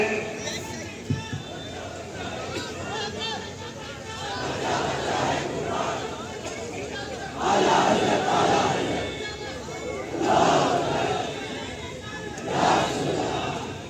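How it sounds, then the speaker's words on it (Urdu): A large gathering at a religious turban-tying celebration shouts the Nara-e-Takbir chant in repeated surging bursts of massed voices, rising and falling in waves over a reverberant hall. "وہ نعرہ تکبیر جو بلند ہوتا ہے"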